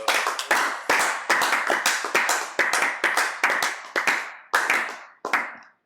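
A church congregation claps in a steady, rhythmic praise of the Lord, a dozen or so loud, close bursts of hands that slow and thin out toward the end.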